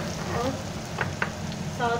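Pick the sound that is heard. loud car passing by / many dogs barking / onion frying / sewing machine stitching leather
onion frying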